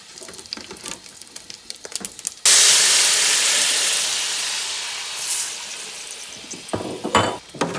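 White wine is poured into a hot pan of browned chicken to deglaze it, bursting into a loud, sudden sizzling hiss that slowly fades, with a wooden spoon scraping and clattering in the pan before and after.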